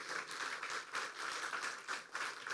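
A church congregation applauds in praise, steady broadband clapping from many hands filling the space for the whole stretch, moderately loud with no talk over it.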